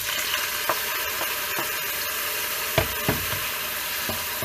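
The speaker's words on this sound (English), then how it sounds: "you're going to want to just saute it for a little bit till it becomes almost a paste." Red pepper and tomato sauté in a pan for vegan palak paneer, with a continuous close sizzle broken by a few sharp stirring clicks and scrapes, and no voices.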